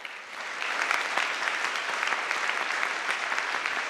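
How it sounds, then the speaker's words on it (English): An audience claps steadily through the whole stretch after a brief quieter start, a dense, even wash of many hands filling a conference hall at a peace talks event. "Can we give him a round of applause"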